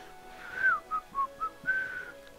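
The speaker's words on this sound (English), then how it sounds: "She kind of sings when she does her job" A character in the video game Legend of Mana whistles a short tune while working, five or six clear melodic phrases rising and falling, alone and close over a faint background.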